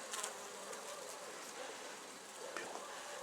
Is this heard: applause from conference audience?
no